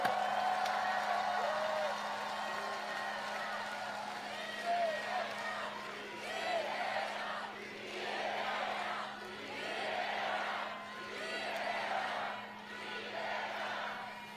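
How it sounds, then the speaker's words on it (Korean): A rally crowd at an outdoor election campaign event cheering and applauding in repeated swelling waves of shouts and clapping, heard from a moderate distance over a steady low hum. "우리 위대한 우리의 이웃들, 동료들에게, 혁명의 동지들에게 한번 격려의 박수, 축하의 박수 부탁드립니다."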